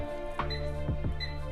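A microwave oven's keypad beeps as the timer is set for 70 seconds to bake an eggless chocolate mug cake: a few short electronic tones with small clicks between, near and clear over a steady hum.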